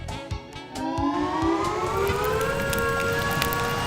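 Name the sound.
tornado siren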